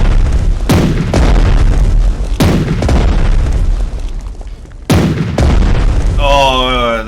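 Warships firing their main cannons in Strategic Mind, a naval battle off Norway: several loud, deep booms at irregular intervals over rolling rumble, ending with a wavering whistle-like tone.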